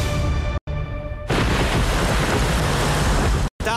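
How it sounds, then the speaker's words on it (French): A violent night storm on a tropical island, with a roaring broadband wash of wind and rain that cuts out briefly twice, steady and loud throughout with no voices. "une violente tempête surprend les hommes et leurs tentatrices"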